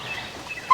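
Young roosters on a home farm try to crow, producing faint, thin, wavering squawks that end in a brief louder squeak, with no talk over them.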